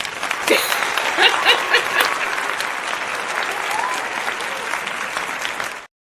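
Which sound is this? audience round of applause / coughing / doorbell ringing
audience round of applause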